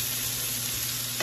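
Cabbage frying in a pan on a burner set to high heat, giving a loud, dense, continuous sizzle with no pauses.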